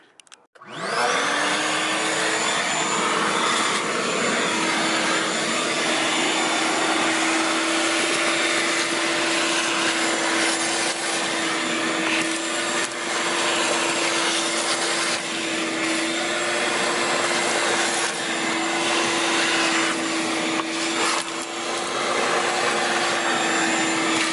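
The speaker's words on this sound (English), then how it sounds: "now I think we're gonna go ahead and start vacuuming out the interior" A vacuum cleaner roars continuously and loudly up close while vacuuming out a car's interior, a steady whine holding for over twenty seconds after it switches on, with no voices.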